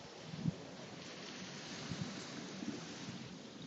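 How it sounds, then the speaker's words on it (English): Strong gusts buffet an outdoor microphone, producing a continuous rumbling roar with a few heavier thumps, steady and close with no clear talk over it. "It's super windy."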